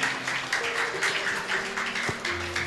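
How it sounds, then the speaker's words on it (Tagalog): A Sunday church congregation applauds for the Lord with steady, moderately loud clapping in a pulsing rhythm, while faint sustained tones hum beneath it. "Isa pang palakpak po para sa ating Panginoon."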